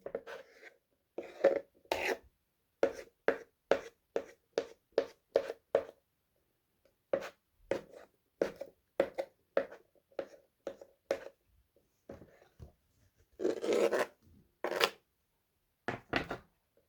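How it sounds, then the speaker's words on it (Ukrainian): A knife chops an egg into strips against a cutting board in quick, even runs of taps with short pauses between bursts, close and crisp. "Яйце теж нарізаю на дольки і соломкою."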